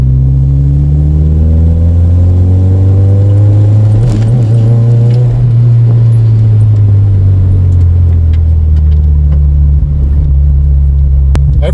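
A Toyota MR2 Mk3 Roadster with a cat-back exhaust idles and revs, giving a loud, close, deep exhaust drone that rises and falls in pitch over about twelve seconds, with faint jangling and clicks.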